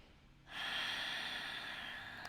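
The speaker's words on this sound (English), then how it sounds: "start to come into your Ujjayi breath. It's like that fogging up a mirror, but the mouth is closed, and you start to hear the sound of your exhale" Steady, breathy Ujjayi exhale through a closed mouth during yoga practice, a soft hissing rush that starts abruptly and holds for about two seconds, close and alone.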